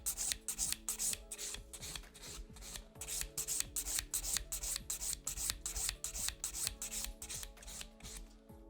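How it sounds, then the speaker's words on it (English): Close, quiet rasping strokes of a nail file beveling an extra-long square acrylic nail toward the tip, in a fast, even back-and-forth rhythm with no talk. "My fifth step in filing, I turn the nail around from the client's angle and bevel down towards the tip."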